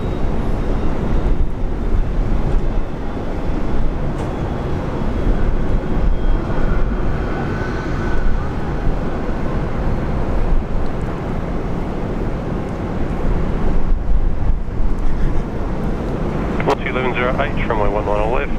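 An airliner takes off from runway 19 left at Brisbane Airport, a low, distant engine rumble that holds steady beneath someone talking over it.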